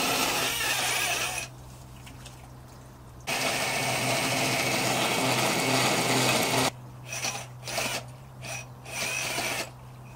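A loud, steady power drill whines in bursts, drilling into concrete, cutting out briefly, then running again before stopping into short intermittent spurts.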